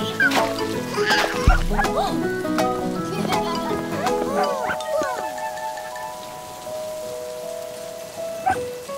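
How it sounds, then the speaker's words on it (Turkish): Cartoon dog barks and yips in a children's song, several short bright barks and a whimper in the opening seconds over music, with a sung voice continuing afterward. "Tutta bir köpek bulduk, adını Bingo koyduk."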